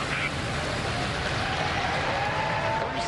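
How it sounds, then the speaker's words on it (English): A crowd at Kennedy Space Center in Cape Canaveral cheers and applauds after a SpaceX Crew Dragon launch on a Falcon rocket, a dense, steady roar of clapping and voices held at a constant level. "The cheers you just heard, well, that's the sound of success coming from the Kennedy Space Center in Cape Canaveral,"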